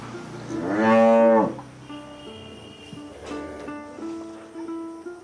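A large Friesian cow lets out one long, loud moo close by, followed by quieter lowing and rustling farm sounds.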